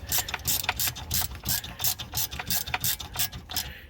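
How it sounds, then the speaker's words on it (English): A ratchet clicks in fast, even strokes while 7mm Allen key bolts are tightened on the brake caliper of a 2017 Mercedes-Benz C220d AMG Line. The close, repeated clicking goes on without a break. "pistons in, screwing up the bolts. 7mm Allen key bolts."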